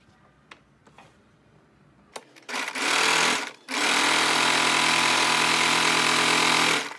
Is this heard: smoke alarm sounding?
no